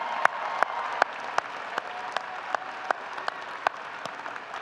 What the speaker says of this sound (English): Let's give our graduate students a round of applause,